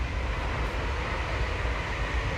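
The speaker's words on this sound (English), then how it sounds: "I'm just waiting for the next train to come by to show you guys" A train passes on the main line near a seaside campsite at Berwick, a continuous heavy rumble and rolling wheel noise holding steady throughout at moderate distance.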